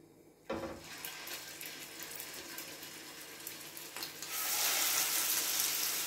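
Water running and splashing with a hiss that swells louder near the end, like food hitting a hot pan and starting to sizzle.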